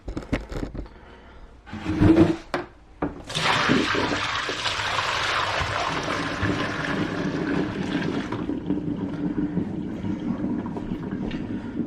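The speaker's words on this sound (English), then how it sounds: "let's pour out the water" Dirty wash water from soaking a heavily soiled, oil-soaked wool jacket pours out of a basin in one long, loud rushing splash lasting several seconds, trailing off into a softer trickle, after a few knocks and handling sounds.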